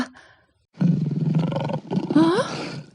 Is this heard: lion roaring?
yes